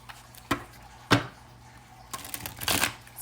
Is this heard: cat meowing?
no